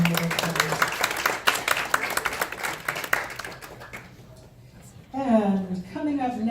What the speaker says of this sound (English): Let's give her another warm round of applause.